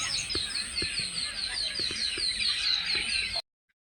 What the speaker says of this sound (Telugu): పక్కన పిట్టలు అయితే మంచి మంచి సౌండ్ చేస్తాను.